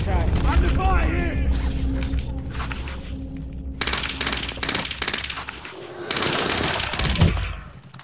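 Bursts of rapid automatic gunfire in a Call of Duty Modern Warfare match, loud and close, crackling in repeated volleys over the second half, with players' voices talking over the action.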